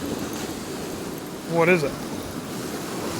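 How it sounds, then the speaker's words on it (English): Stormy sea waves crash on the beach at Hopton on Sea near Great Yarmouth, a steady loud roar of surf with wind buffeting the microphone, while a voice briefly speaks partway through. "some of the waves kick right up and straight over your head"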